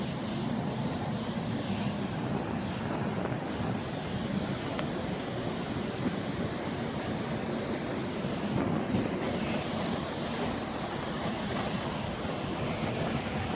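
Waterfall among mossy forest, a steady, broad rushing roar of falling water that stays even and fills the whole stretch without pause.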